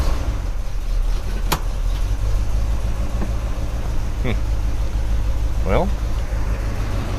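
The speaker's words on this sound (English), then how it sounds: "Just doing a little brake torque on it to see how it feels." A 1972 Buick GS Stage 1 engine runs loud and close under brake torque, a deep, steady, slightly lumpy rumble that holds fairly even, with brief voices and small clicks over it.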